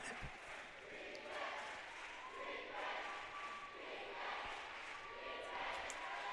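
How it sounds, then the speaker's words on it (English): Crowd cheering at a 1A boys' high school basketball semifinal, a sustained, loud roar of many voices filling the gym throughout, with shouts rising and falling. "The Beren crowd cheering their team on."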